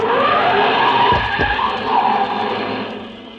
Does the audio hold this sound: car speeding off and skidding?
yes